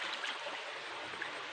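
Water trickles in a small, steady flow from a spring in Ramon, Isabela: a faint, continuous hissing babble, quiet and uninterrupted, with no voices.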